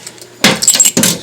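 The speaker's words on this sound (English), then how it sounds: "the keys that came with the panel" Fire alarm panel keys jangle in two loud, close bursts of metallic rattling after a quiet moment.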